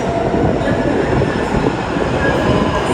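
Loud, continuous rumble of a passing train, near and steady, with a brief high wheel squeal.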